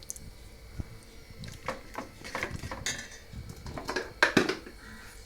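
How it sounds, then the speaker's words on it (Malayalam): A spoon scrapes and clinks against a pot of majboos biryani as it is stirred after salt goes in, a series of irregular metallic knocks and scrapes, close and moderately loud, with no talking. "ഉപ്പിട്ടിട്ട് നല്ലോണം ഇളക്കണം കേട്ടോ."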